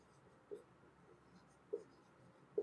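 Pen or pencil writing notes by hand on paper, three faint separate scratches about a second apart over a quiet room hum, no talking.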